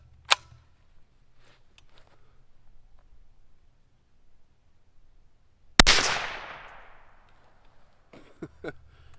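A single rifle shot with CCI ammunition from a 21-inch barrel, fired over a chronograph outdoors, cracks sharply midway and rings out in a decaying echo, framed by a few small clicks and quiet background.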